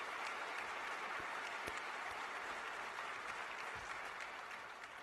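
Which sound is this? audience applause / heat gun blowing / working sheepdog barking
audience applause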